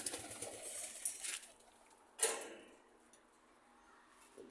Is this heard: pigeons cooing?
yes